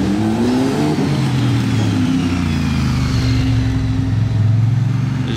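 An orange Porsche GT3 RS engine rumbles close by outside a hotel, a steady, loud idle with slight rising and falling revs throughout, no voices over it.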